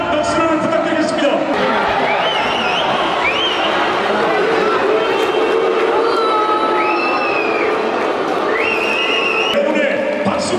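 A large stadium crowd at Ulsan Munsu roars and applauds after a K League football match between Ulsan HD and Gwangju FC. The noise is a dense, steady wash, with whistle-like tones rising above it throughout.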